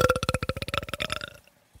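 A wet belch made with a mouthful of pretzels, a quick rattling burst of gurgling pulses that fades out after about a second and a half.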